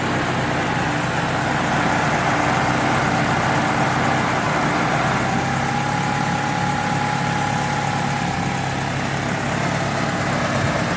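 A 1990 Eagle Talon TSI engine idles steadily after sitting for 19 years, a close, continuous running drone with no voices, joined partway through by a faint whirring tone.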